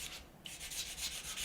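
A sanding sponge rubbed back and forth over the plastic tail planes of a Revell 1/32 Me 262 model kit, giving close, soft repeated scratchy strokes with a brief pause.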